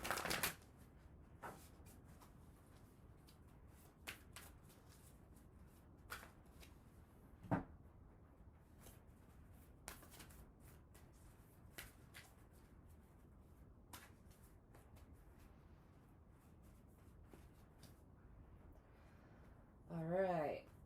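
A deck of cards is shuffled by hand at low volume, giving soft rustling with scattered sharp snaps and riffles over about twenty seconds and a denser flurry near the end.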